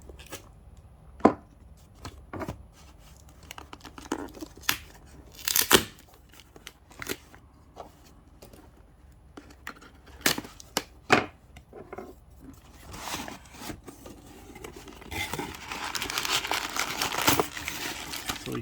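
A package of silver Morgan and Peace dollar coins being opened, with scattered paper crinkles, snips and light taps, then a denser stretch of rustling wrapping near the end. The sounds are fairly faint and no one talks.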